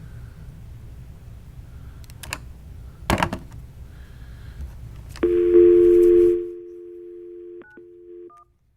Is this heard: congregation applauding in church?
no